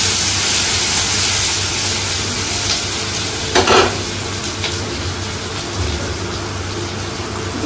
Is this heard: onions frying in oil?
yes